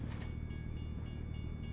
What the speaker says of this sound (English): we're going to have to wait a while for the train to go past